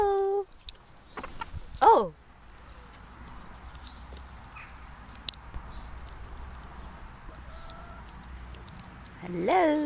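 Chickens cluck and squawk in short bursts at the start and end, with quiet rustling and a faint voice in between.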